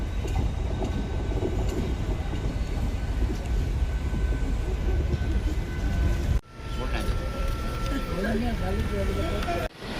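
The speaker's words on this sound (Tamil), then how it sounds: "நம்ம ட்ரெயின் வந்து கிளம்பிருச்சு." A local train on the Avadi–Tambaram route rumbles and clatters steadily nearby, the sound cutting out briefly before resuming with a squealing whine as it departs.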